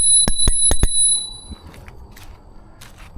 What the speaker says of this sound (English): Last thing to show in the cockpit is a bell.